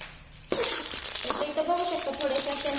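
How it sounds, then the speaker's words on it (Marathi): Green chillies roast in a hot pan, sizzling and frying steadily close by while they are stirred with scraping strokes, starting suddenly after a brief quiet moment. "त्या हलवून घ्यायच्या म्हणजे थोडंसं असं हलवलं ना तर दोन्ही साईडने चांगल्या भाजून निघते"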